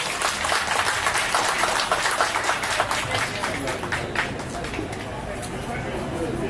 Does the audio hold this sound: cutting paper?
no